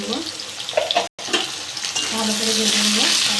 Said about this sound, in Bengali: ভালো করে ভেজে নেবো আলুগুলো